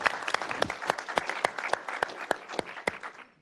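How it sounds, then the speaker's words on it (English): A round of applause for Greg and his team at an executive committee meeting, a small room of hands clapping in sharp, uneven bursts that thin out toward the end. "How about a round of applause for Greg and our team?"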